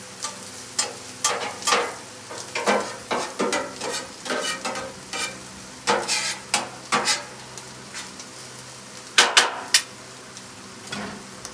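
A spatula scrapes and stirs beef bacon and corn frying on a Blackstone griddle, giving close, uneven clacks and scrapes over a low sizzle, with no voices.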